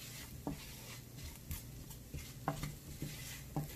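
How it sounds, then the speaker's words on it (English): Onions with spices being stirred in a pan, soft scraping strokes at irregular intervals over a faint low sizzle, quiet and close, with no voices. "Now we will stir it all together and cook till the aroma comes through"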